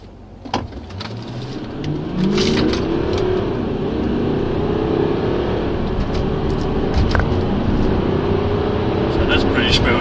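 An Audi Q7 4.2 TDI pulls hard in dynamic mode, its engine note climbing steadily through the gears over road and wind noise, with people talking inside the cabin.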